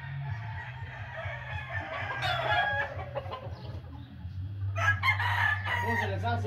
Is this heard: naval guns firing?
no